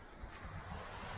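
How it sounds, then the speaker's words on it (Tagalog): Strong wind at an early-morning campsite, a steady broadband rush with gusty swells and low rumbling, moderately faint and continuous with no voices. "Lakas pa rin ang hangin."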